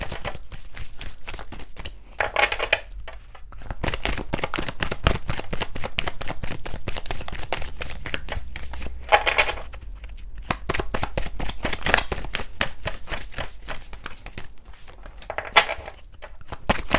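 Tarot card decks are shuffled close up in a continuous riffling patter, with a few heavier bursts as the cards are riffled together, and nobody speaks.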